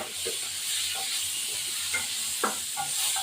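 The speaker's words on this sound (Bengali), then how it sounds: "দিয়ে দিলে এটা একটু ভাজা ভাজা হবে ভাজা ভাজা হয়ে এই বাটা মাছ বাটা মাছটা ভাজা হয়েছে" Bata fish sizzles in a pan with potato and tomato, a quiet, steady frying hiss broken by a few soft pops and stirring clicks.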